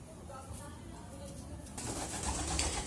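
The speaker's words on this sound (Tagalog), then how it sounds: "Ito yung young bird namin." A young pigeon of the Mulawin line coos softly in a loft, a low steady murmur with faint flutters, while a person talks nearby.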